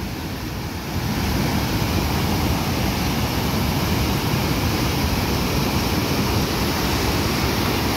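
Floodwater pours over a dam on the Salgado river after heavy rains, a loud, dense, continuous roar of rushing water that holds steady from start to finish.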